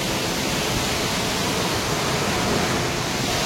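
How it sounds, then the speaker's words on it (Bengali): A waterfall beside the Madmaheshwar trail in the Himalayas gives a steady, loud broadband rush of falling water, close and unbroken throughout, with no voices. "দেখুন আমার পিছনেই অসম্ভব সুন্দর ঝর্ণাটা"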